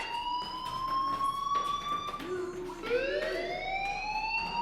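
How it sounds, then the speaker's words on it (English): Fire alarm in the video game Life Is Strange makes a continuous rising and falling electronic wail, steady and fairly loud, with faint background ambience. "Hey, do you hear that fire alarm?"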